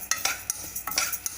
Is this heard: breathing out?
no